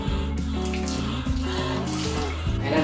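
Hot water runs steadily and splashes close by while a pet dog is bathed, a loud continuous gush with tonal ringing threaded through it.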